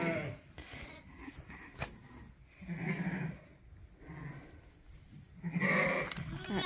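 Sheep on a farm bleat several times, one close and loud near the end, with a few softer calls and some light movement noise in between.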